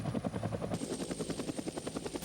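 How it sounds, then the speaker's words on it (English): An AH-1 Sea Cobra attack helicopter drones steadily overhead, its rotor beating in a fast, even thump beneath a high engine whine. "The Sea Cobra is a Marine variant of the AH-1 Cobra and forms the backbone of Marine attack helicopter units."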